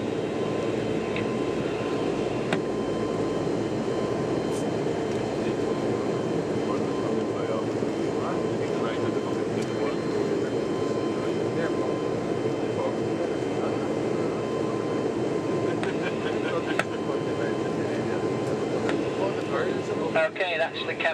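Inside the cabin of a 19.3-ton aircraft around takeoff, a steady loud engine drone fills the whole clip, a continuous broadband roar with a low hum and no pauses.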